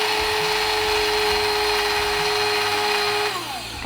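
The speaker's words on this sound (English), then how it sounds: "get your ground almonds and spoon it into your spice grinder, just a little bit at a time. Put the lid on and whiz it up." Ground almonds whizzed in an electric spice grinder with the lid on, a loud steady high-pitched motor whine held for a few seconds before it starts winding down, close up.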